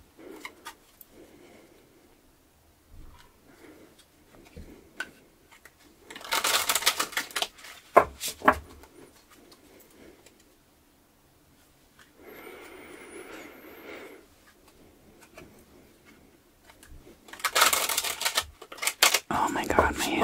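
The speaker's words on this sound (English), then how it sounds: "It takes me forever to shuffle these big ass cards." Large, stiff tarot cards riffled and shuffled in several bursts of crisp flapping and slapping, close up, with quiet pauses in between.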